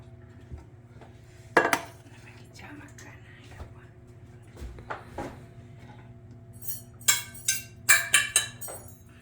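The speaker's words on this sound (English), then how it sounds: "So we're going to load it up in the pan and put it in the oven." Fruit cake batter is spooned into metal baking pans with scattered clinks and scrapes of utensil on pan, quiet at first and then a quick run of sharper knocks.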